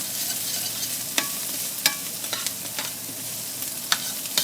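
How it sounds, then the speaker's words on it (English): Diced onions fry with tasso in a hot pan, giving a steady soft sizzle broken by sharp clicks and scrapes as the pan is stirred, with no talking. "we're going to add some diced onions, and we're going to cook these for just a second"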